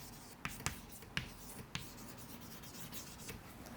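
Chalk or marker scratching on a board during a class 10 geometry lesson, with a few sharp taps and short strokes in the first couple of seconds followed by quieter continuous rubbing, close and faint.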